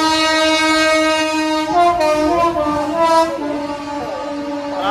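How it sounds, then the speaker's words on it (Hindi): A Delhi local train in motion, its loud sustained horn blaring close by with shifting tones, over the rumble of the moving carriages. "In short local train."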